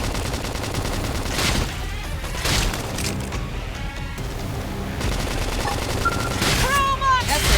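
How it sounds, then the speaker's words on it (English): Gunfire crackles in rapid bursts alongside a flame grenade blast during combat in the video game Xenoblade Chronicles X, loud and dense, with game voices talking over the battle. "Flame grenade."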